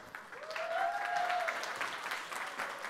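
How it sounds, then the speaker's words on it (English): A conference audience applauds a panel arriving on stage, brisk, steady clapping from a sizable crowd with a short whoop rising over it, moderately loud and unbroken for a few seconds. "And to give them a round of applause."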